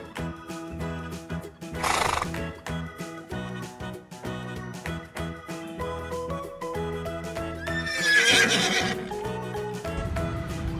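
Toy horse play accompanied by a loud recorded horse neigh and whinny over a busy musical backing, with two bright whinny bursts near the start and later, and clip-clop hoofbeats blended into the music.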